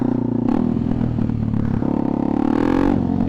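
A motorcycle engine revved hard to redline. It is a loud, sustained, close whine whose pitch climbs, dips briefly, then surges again.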